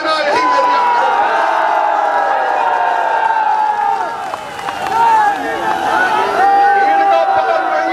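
A huge crowd fills the roads and grounds at a political rally, a dense, continuous roar of voices and hubbub holding steady for the whole stretch, with a brief dip midway.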